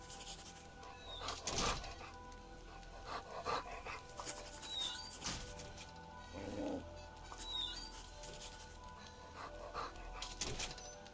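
A dog in the video game S.T.A.L.K.E.R.: Dreamcatcher pants and huffs close by in repeated breathy bursts, with faint chirping game ambience around it.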